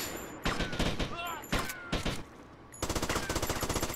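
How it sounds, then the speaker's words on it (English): Shotgun blasts and other gunfire from the video game Grand Theft Auto: Vice City: a few scattered loud bursts, then a fast, steady volley of shots in the last second. "Shotgun, boys!"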